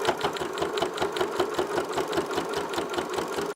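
A sewing machine stitches over the tucked edges of a fabric tortilla warmer, a rapid steady mechanical chatter close up that runs evenly, then stops abruptly.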